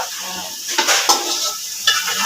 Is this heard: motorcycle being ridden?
no